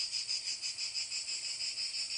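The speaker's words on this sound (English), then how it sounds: "That is the noise of just one cicada." A cicada buzzes in a continuous high-pitched drone, pulsing steadily, moderately loud with no other sounds.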